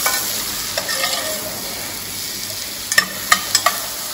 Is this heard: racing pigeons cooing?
no